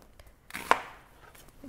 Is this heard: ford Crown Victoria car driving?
no